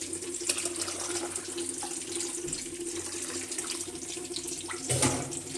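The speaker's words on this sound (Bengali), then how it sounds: "এখন আমি পানি দিয়ে নিব ডালের মধ্যে।" Water poured from a tap or vessel into boiled, softened masoor dal: a continuous soft running splash throughout, with a brief louder gush near the end, no speech.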